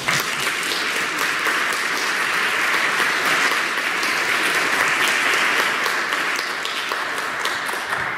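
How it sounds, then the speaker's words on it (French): A church congregation applauds during Mass, a dense, steady wash of many hands clapping that holds at full strength for about eight seconds with no voices rising above it. "Je pense qu'on pourrait s'applaudir."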